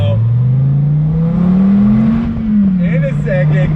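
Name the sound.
Dodge Viper accelerating away from a light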